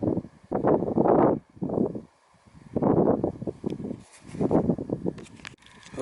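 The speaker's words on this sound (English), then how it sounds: "all you can hear up here is the sound of the breeze going through that wire fence" Breeze blowing through a wire fence on a hilltop, heard as gusting bursts of wind buffeting close to the microphone, swelling and dropping in irregular waves with brief lulls between.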